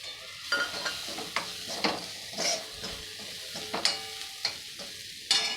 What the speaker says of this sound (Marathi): तर सर्वात पहिले आपण वाटाण्याची भरड टाकायची छान परतून घ्यायचं आहे